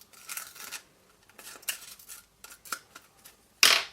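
Paper edge trimmed during a card-making project with a label, heard as a series of soft, close snipping and rubbing sounds, ending in a brief louder crisp cut.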